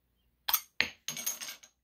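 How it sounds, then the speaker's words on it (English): An Ayinger Bräuweisse beer bottle is pried open with a bottle opener: a couple of sharp metallic clicks as the cap comes off, then a brief bright hiss of escaping gas, close and fairly quiet. "Alright, got a nice bottle opener, and let's open it up."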